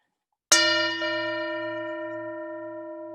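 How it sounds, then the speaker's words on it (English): One strike of a bell during a Sunday church service, sharp and close, followed by a long, steady ringing tone that decays only slightly over several seconds with a low, pulsing hum beneath. "Enjoy the sound of the bell."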